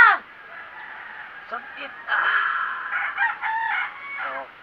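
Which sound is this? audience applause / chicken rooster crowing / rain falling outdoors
chicken rooster crowing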